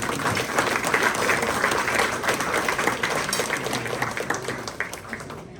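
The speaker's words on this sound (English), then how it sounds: "Let's give him a big applause." Sustained applause from an audience at a Rotary club honors event, steady dense clapping filling the room and slowly thinning toward the end.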